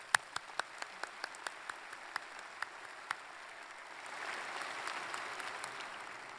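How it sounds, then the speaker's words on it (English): Applause at a university commencement ceremony: a few sharp individual claps ring out first, then broader, softer clapping from the crowd swells, heard somewhat distant in a large space. "Another round of applause for our commencement speaker"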